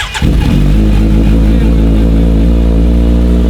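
A Kawasaki Z9 motorcycle with an Austin Racing exhaust cold-starts with a sharp crack, then settles into a loud, close, steady rumbling idle.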